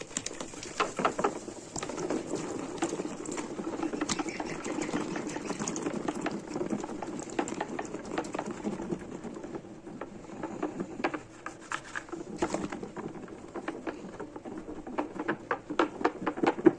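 Homemade liquid soap mixture being whisked by hand in a container, a continuous wet sloshing and rubbing churn with rhythmic patters, close and moderately quiet, steady throughout with no talk.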